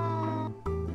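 A cat gives a short, close meow in a children's story, one clear drawn-out call with a brief break partway through, heard alone.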